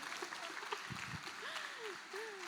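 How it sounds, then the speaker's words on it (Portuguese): Faint, distant audience applause for housewives, soft clapping heard behind a voice speaking close by. "uma salva de palmas para as donas de casa"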